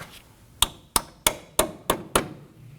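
A hammer drives a bolt through a Nissan Murano front strut assembly with six sharp, evenly spaced metallic strikes, close and loud, with quiet gaps between blows.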